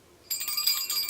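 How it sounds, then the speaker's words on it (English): A small metal jingle bell being sewn onto a handmade Christmas garland jingles in a bright, continuous shimmering rattle that starts abruptly and keeps ringing close by for about a second, with no talking. "I'm just going to start sewing on the bell."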